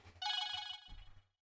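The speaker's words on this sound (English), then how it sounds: "Get the phone, Amber!" A telephone rings once in a small business setting, a bright electronic trill lasting about a second, fairly close and clear, followed by a brief quiet pause.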